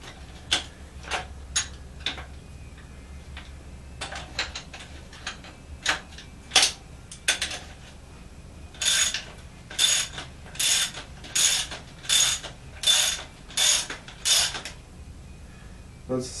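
A socket wrench ratchets a nut on an aluminum Honda motorcycle fork, first in scattered clicks, then in a steady run of close, crisp ratchet bursts, with no talking.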